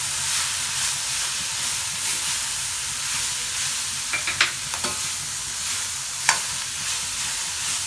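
Long beans with Maldive fish stir-fry in a pan with a steady hissing sizzle, joined by a few sharp clinks of a spoon against the pan, close and continuous, with no voices.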